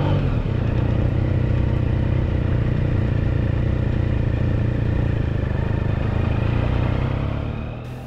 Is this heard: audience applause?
no